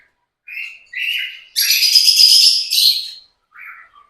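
Caged lovebirds, two pairs, give short bright chirps near and clear, then a louder, longer burst of rapid twittering that stops, followed by one more brief call.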